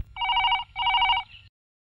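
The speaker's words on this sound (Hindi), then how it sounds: "काशी के घर का फोन रिंग हो रहा" A telephone bell rings twice in quick succession, a bright buzzy double trill close by and fairly loud, then stops, with no talk.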